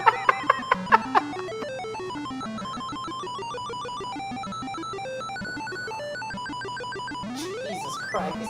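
Chiptune-style Amiga-era music and sound effects from the Zany Golf video game play, a quick run of bright plinking notes opening into busy warbling melodic lines and a rising sweep near the end, steady and moderately loud.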